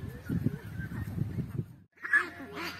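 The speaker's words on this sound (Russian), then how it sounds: "сколько гусей." A low rumbling noise drops away, then a few loud, close goose honks ring out in quick succession.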